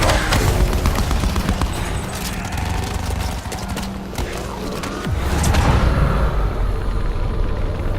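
Dense, loud bursts of rapid gunfire from Call of Duty Black Ops 4 Zombies, layered with game effects and ambient din, continuing without pause through the stretch.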